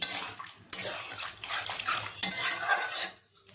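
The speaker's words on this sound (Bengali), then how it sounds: "এবার দিয়ে দেব গরম জল" Hot water is poured into a pot of vegetables for coconut-milk shukto, making a close, splashing gush in two long pours with light clinks of the pot between them.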